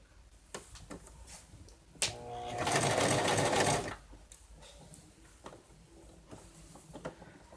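A sewing machine stitches fabric for a stuffed bear in one loud, steady burst of rapid mechanical whirring lasting under two seconds, with quieter handling clicks before and after.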